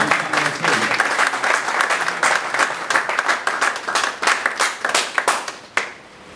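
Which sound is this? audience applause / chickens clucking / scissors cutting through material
audience applause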